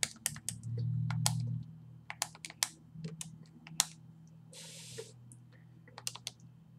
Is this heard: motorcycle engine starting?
no